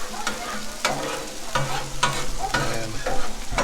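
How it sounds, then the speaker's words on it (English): Metal spatula scrapes and stirs chicken fried rice on a flat top grill, with repeated scraping strokes over a steady close sizzle. "Just take your spatula right there and just mix those up right here on the flat top grill."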